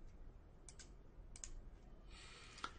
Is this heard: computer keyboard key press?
yes